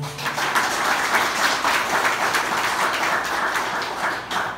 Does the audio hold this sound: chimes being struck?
no